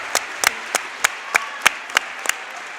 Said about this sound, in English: the crowd's going to give her a big round of applause.